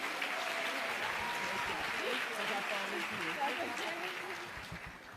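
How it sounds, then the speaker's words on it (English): A gala audience claps in a steady, moderately loud round of applause, with scattered voices and cheers mixed into the crowd noise, fading slightly toward the end. "Give her a big round of applause."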